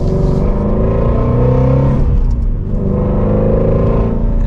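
A Ford Mustang Shelby GT350R engine drones loud and steady while driving, a deep rumbling exhaust note that eases briefly mid-run before pulling again, with no talk over it.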